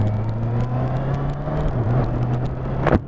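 A 2020 Honda CB500F motorcycle rides along with a steady, close engine drone and wind rumble, a sharp rev rising briefly near the end.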